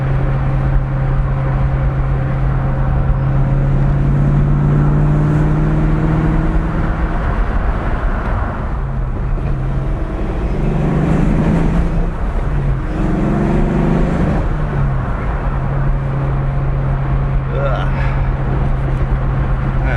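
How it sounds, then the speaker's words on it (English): Fox Body car engine running rough and misfiring, a steady loud low drone with uneven stumbles and surging pitch through the middle, carrying on throughout. "Misfiring. There's something going wrong."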